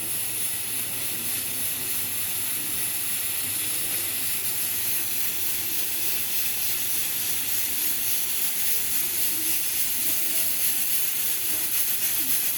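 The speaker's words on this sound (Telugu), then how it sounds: "కుక్కర్ విజిల్ ఒకటి వచ్చిందండి" Pressure cooker releasing steam through its whistle, a continuous loud, steady hiss that holds unbroken for over twelve seconds without pause.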